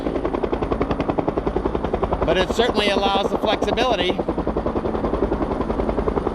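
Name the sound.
firefighting helicopter with water bucket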